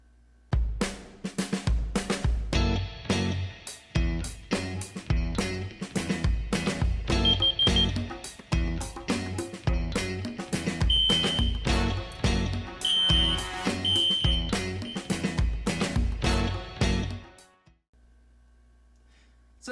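A Wheelock 34T fire alarm horn sounding in a home system test, loud rapid pulsing blasts repeated for about seventeen seconds before stopping abruptly.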